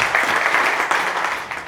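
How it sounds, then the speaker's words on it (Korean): A congregation claps in welcome for a pastor at the final day of a world union festival service, a brief burst of steady, moderately loud applause filling the hall. "박수로 환영합니다"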